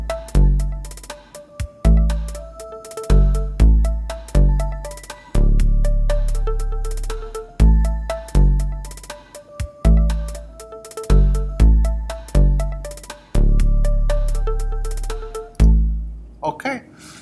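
A quantized four-measure ringtone loop of bass and drums plays as short, punchy repeated phrases with strong low thumps and bright synth notes, looping steadily without talk.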